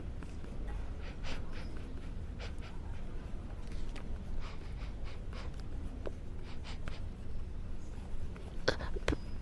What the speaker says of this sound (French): Je pourrais le renifler pendant des heures sans m'en lasser.